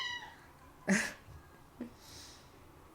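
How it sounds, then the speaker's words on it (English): A house cat meows softly a couple of times, faint and fairly close, with quiet room tone between the calls and no talking. "there goes Sage, my cat."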